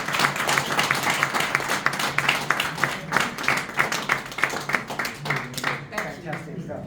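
An audience applauds after a business talk, with dense, lively clapping that carries on steadily and begins to thin toward the end, heard fairly close in a room.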